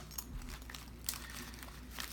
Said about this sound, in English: Here is a wrapped up plastic bag from like a grocery bag with a rubber band.